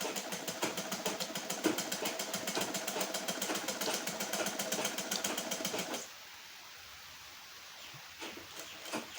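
A simple hand-operated sewing machine with no motor stitches lace onto a saree with a fast, even, rattling rhythm up close, then stops abruptly, leaving faint background hiss and a few light knocks.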